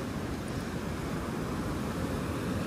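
Sea waves breaking against the rocks on a beach in Sindhudurg, Konkan, giving a dense, steady wash of surf and wind-blown roar throughout, with no speech.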